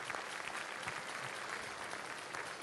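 An audience at the Coupe du Monde de la Pâtisserie 2013 pastry competition gives a continuous round of clapping, steady, even and fairly distant, with no voices on top.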